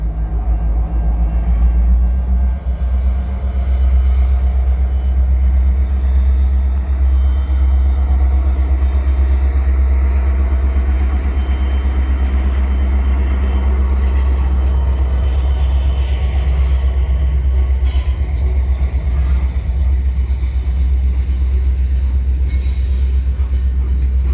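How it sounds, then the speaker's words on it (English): A loud, steady rumble of a passing freight train crossing the Lachine Canal bridge in St Henri, Montreal, rolling wheels and railcar clatter continuing throughout with a faint high squeal above. "there's a second train coming right now."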